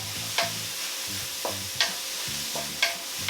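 Onions and garlic stir-fry in a wok for spicy pork, a steady close sizzle broken by regular scraping strokes of the spatula, roughly one every second, with no voices.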